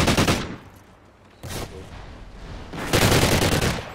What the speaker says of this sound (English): I'm shooting his body and you can barely kill me, Ricky! MW3!